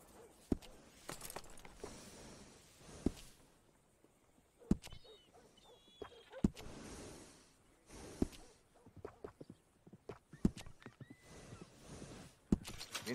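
A horse in Red Dead Redemption 2 snorting and whinnying up close, with scattered hoof clops and soft tack rustles in between and no talk over it.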